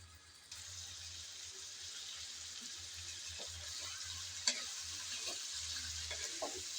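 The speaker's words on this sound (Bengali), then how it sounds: "মাংসটা দিয়ে তারপর মাংসের মশলা দিয়ে কিছুক্ষণ নেড়েচেড়ে নিয়েছি। অপেক্ষা করব যাতে ভালোভাবে একটু কষানো হয়।" Mutton with spices stir-fries in a pot for haleem, giving a steady hiss of frying with occasional soft scrapes and bubbling, close and fairly quiet, with a low hum underneath and no speech.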